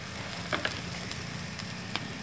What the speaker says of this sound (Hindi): इसको सुनहरा होने तक हम अच्छे से फ्राई करेंगे।